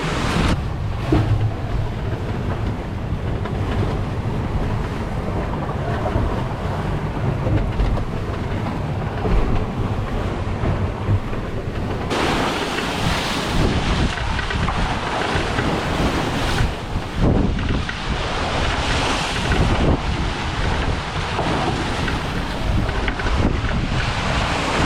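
Wind buffets the microphone aboard a sailboat being sailed single-handed from Puerto Vallarta to Puerto Escondido, with waves and open ocean rushing steadily for the whole stretch and growing louder and rougher partway through; no one speaks.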